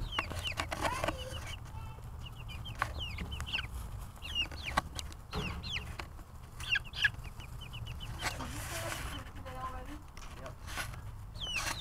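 A young chick clucks and peeps repeatedly in short, scattered calls, with a voice speaking faintly at times in the background.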